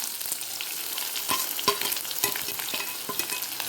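Chana dal and onion frying in a pan, a close, steady sizzle broken by sharp scrapes and taps of a spatula stirring, with no one speaking.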